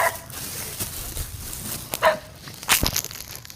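A dog barks a few times at a calamansi orchard in the Philippines, the barks short and scattered over rustling and crinkling, moderately close.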